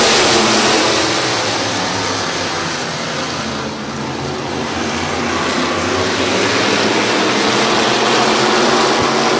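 Race cars roar off together at a green flag start at Midvale Speedway's fall classic, a dense, loud engine wall that dips briefly, then swells again as the pack accelerates.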